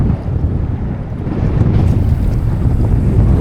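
Strong headwind buffeting the microphone in low, rumbling gusts, with water lapping faintly beneath, while fishing in the Camargue; no one speaks.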